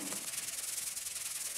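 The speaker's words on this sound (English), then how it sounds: "the cycle of sanding down, applying bondo and sanding down again started all over" Body filler on a 1966 Triumph Spitfire MK2 is sanded by hand, a faint, continuous hissing scrape with a fast back-and-forth rubbing rhythm and no voices.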